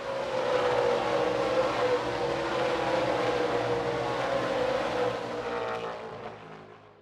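Dirt track race cars battling down the backstretch at Everson, a loud continuous engine roar from several cars that swells and then fades away toward the end.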